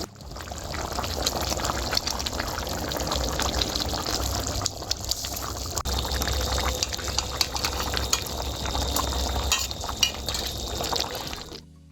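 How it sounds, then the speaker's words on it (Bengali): Fish go into boiling curry gravy in a pan, giving a steady bubbling, splashing hiss that carries on throughout, close and fairly soft, with no talking. "ঝোলটা খুব ভালো মতো ফুটে গেছে, এবারে মাছগুলো দিয়ে দেবো।"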